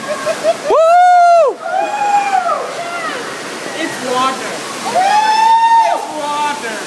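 Water on a Thorpe Park theme park ride rushes and splashes loudly in bursts, with riders shouting and cheering over the roar of the flow.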